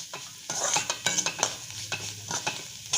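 Rice stirred in a little ghee in a pan over low to medium flame while roasting for kheer, with soft sizzling and a spoon scraping in short irregular strokes, quiet and close.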